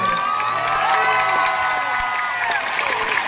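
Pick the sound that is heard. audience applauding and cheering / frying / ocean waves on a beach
audience applauding and cheering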